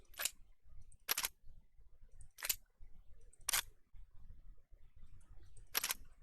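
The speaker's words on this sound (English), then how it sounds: "This is bolt back, this is bolt forward, so bolt back is this" Gun bolt being pulled back, a sound effect from Payday 2 swapped into Left 4 Dead 2: five sharp, bright metallic clacks spaced irregularly over a low background rumble, with no talking.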